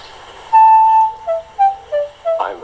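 A railway guard's whistle gives one long shrill blast followed by several shorter chirping toots, loud and close, in an animated railway setting.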